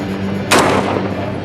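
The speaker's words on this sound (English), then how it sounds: "That's return fire coming back at us." Gunfire in the Najaf battle in Iraq, a single loud, close burst of shots returned at the listener, standing out sharply from steady background noise.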